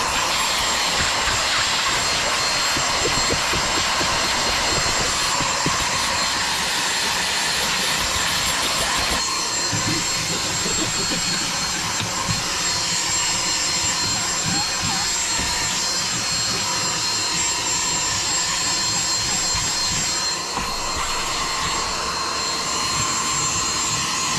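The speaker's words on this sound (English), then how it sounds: "Having one of those tighter heads on your vacuum really helps as well" A vacuum cleaner runs steadily while cleaning the carpet inside a Jeep, fitted with a narrow tight-spot head; a continuous, fairly loud whooshing drone with shifting pitch as the nozzle moves, no talk over it.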